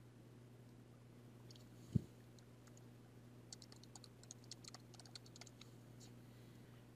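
Faint, sparse clicks of keys being typed on a computer keyboard, a quiet scattered tapping that thickens in the second half over a low steady hum, with one sharp knock early on.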